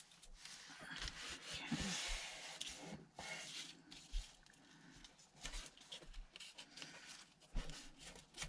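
A paper zipper tag is roughed up by hand, giving soft, irregular scratchy rubbing and scuffing strokes close to the microphone, fairly quiet with a few sharper scrapes.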